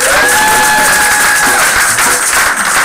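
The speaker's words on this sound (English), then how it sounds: "Give him a big round." Dense applause from an audience at an anniversary celebration, loud continuous clapping with a whistle rising above it, sustained throughout.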